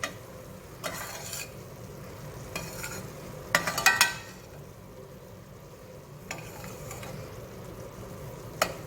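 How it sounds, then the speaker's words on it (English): A spoon stirs grated cheese into cauliflower and heavy cream in a pan, giving soft scraping swirls with a few sharper clinks and scrapes against the pan, close and moderately quiet. "And then we're going to start to stir that in."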